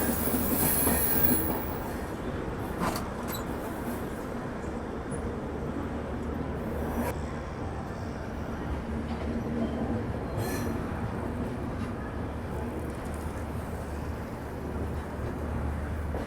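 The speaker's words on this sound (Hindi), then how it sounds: "चलिए सेनानी एक्सप्रेस की यात्रा अपनी खत्म हो रही है यहाँ पे फाइनली" Swatantrata Senani Express rolling into Prayagraj, a steady loud rumble of train wagons with wheel squeal and a few sharp metallic clanks, continuous throughout with no talk.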